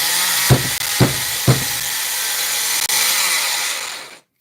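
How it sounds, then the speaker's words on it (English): Shark Attack's angle grinder runs steadily with a harsh, bright whine, broken by three quick knocking bumps early on and a brief dip before it winds down and cuts off, loud and close with no talk. "this is Shark Attack grinder"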